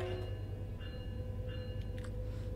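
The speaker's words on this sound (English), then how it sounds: "So this is the Metrolink F125, which we first got on the Antelope Valley line with Train Sim World 4" Metrolink F125 locomotive running on the San Bernardino line in Train Sim World 5, a steady low engine drone with a constant hum and faint high tones, no talking.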